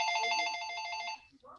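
A telephone rings with an incoming call, a bright electronic trill pulsing rapidly for over a second before cutting off, followed by a brief faint rustle.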